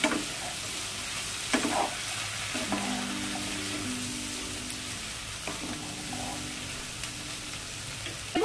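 Cut taro stolons (kochur loti) drop into a hot pan and are stirred, with a steady frying sizzle and occasional close scrapes and knocks of the spatula.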